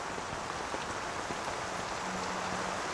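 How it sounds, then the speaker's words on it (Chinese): Heavy rain pours down at night in a steady, dense hiss that never lets up, with a faint low hum briefly underneath. "小夏记者，下这么大雨在这干嘛呀？"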